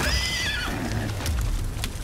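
A horse in the video game Far Cry 6 gives one loud, close, descending whinny lasting under a second, followed by low rumbling game noise.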